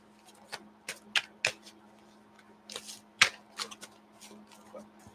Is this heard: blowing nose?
no